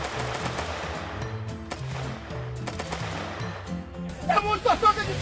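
Rapid bursts of automatic gunfire in the game GTA MTA roleplay crackle over a steady electronic backdrop, with a louder flurry of shots near the end.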